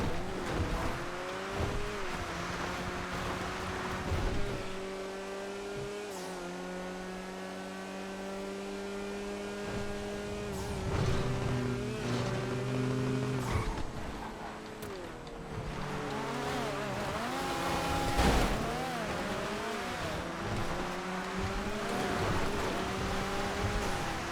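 A Cheburek Rally car racing in GTA V on FiveM, its engine revving up and down in rising and falling tones with occasional tire squeal and brief bursts of noise, fairly close, with faint speech in the background.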